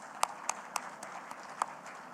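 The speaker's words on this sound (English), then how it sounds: "give a big round of applause to our speakers and moderator" At a panel session of the IDEAS Pakistan 2024 defence exhibition, the audience gives speakers and a moderator sparse, rhythmic applause, with a few distinct hand claps standing out over soft background murmur.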